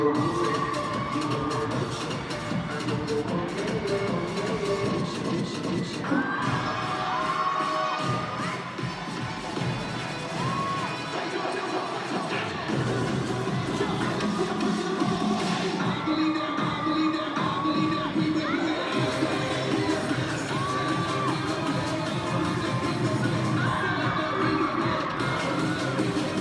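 Spectators at a team competition cheer and shout continuously for nearly half a minute, a lively crowd roar with scattered whistles and shrill voices that swells and dips.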